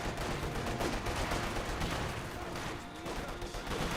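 In Company of Heroes 2, a German Flammenwerfer flamethrower fires on an infantry squad behind heavy cover, a dense, continuous roaring rush mixed with crackling small-arms gunfire in a noisy battle scene.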